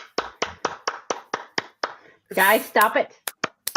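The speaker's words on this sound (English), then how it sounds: "You're giving yourself the hand of applause." Short run of sharp claps from a soundboard applause button, about eight evenly spaced near hits, then someone talks over it before a few more claps.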